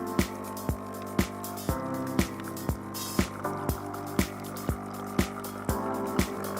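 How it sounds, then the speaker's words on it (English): A Nescafé Dolce Gusto Infinnissima coffee machine rinses with water, its pump pulsing in evenly spaced clicks about twice a second over a low, steady hum, heard close and fairly quiet. "Infinnissima will start rinsing."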